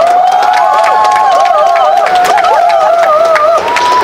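A crowd at an election campaign event with a cheer squad cheers and claps, with voices carrying sustained, wavering shouted tones over a continuous bed of noise, fairly loud and steady throughout.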